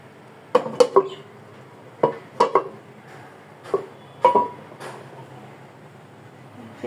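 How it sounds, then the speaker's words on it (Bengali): A lid settles onto a pan of pizza with a series of sharp metallic clinks and clatters, grouped in short bursts over a quiet background. "এবার একটা ঢাকনা দিয়ে দেব।"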